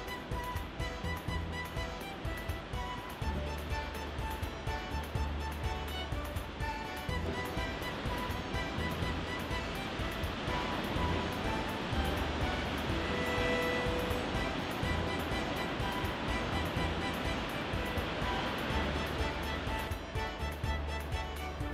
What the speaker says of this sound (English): Big crashing waves can be fun to watch